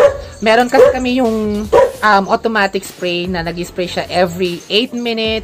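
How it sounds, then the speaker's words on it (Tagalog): A pet dog barks outdoors, sharp yips cutting in near and loud among steady Filipino speech during an unboxing of online-shop purchases. "Pasensya na sa aso ko kasi nandito tayo sa labas"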